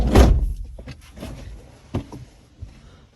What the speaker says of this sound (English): Close the back door.